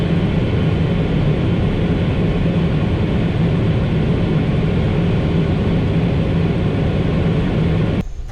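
The engines of an Airbus A400M military transport roar at takeoff power on the runway, a steady, loud, broadband drone heard from inside the cockpit that holds level throughout and drops off abruptly at the end.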